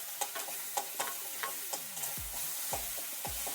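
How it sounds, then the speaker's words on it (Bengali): Green chilli and garlic paste frying with onion in a pan, a soft steady sizzle with rhythmic spatula scrapes, some sweeping in quick strokes near the end. "এগুলো দিয়েও একটু ভালো করে ভাজবো"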